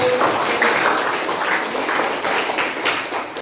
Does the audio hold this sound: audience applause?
yes